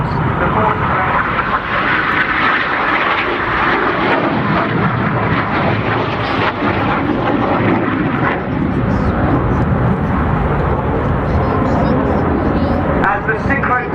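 Red Arrows jets roaring through an air display at RIAT 2014, a loud sustained engine rumble and whoosh filling the whole stretch, with a commentator talking over it on the public address.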